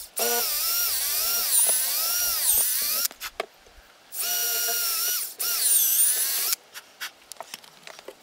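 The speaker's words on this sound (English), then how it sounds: "This took approximately 400 more holes being drilled than I originally thought might be necessary." A power drill bores holes into a wooden axe handle, whining loudly in several long bursts with shifting pitch, separated by short pauses and light handling noises.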